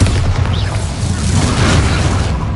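A Bombarda explosion spell in a video game, a loud, dense, continuous roaring blast with rumbling low end and crackle filling the whole moment, a voice faintly mixed underneath.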